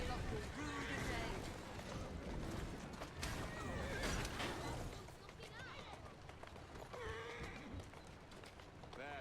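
In Assassin's Creed Syndicate, a horse drawing a carriage whinnies loudly and its hooves clip-clop at a run, with game voices speaking over the action and a second neigh near the end.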